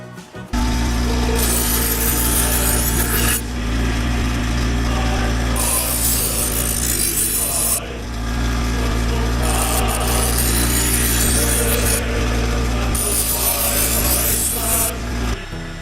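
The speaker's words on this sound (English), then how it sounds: "Now I've done the rough grinding." Rough grinding on a miniature crossbow prod, a steady abrasive rasping that runs loud and continuous through the whole stretch, with rhythmic surges as passes are made and no talking.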